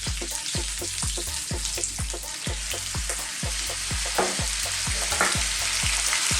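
Cod fillet frying in butter in a pan, a steady close sizzle with repeated sharp knocks and scrapes as the fish is stirred and turned, no voices.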